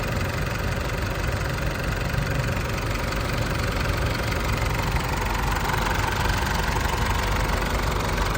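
The diesel engine of a 2012 Isuzu D-Max 2.5Z pickup idles steadily nearby, a smooth, continuous low rumbling chug with light knocking and no voices.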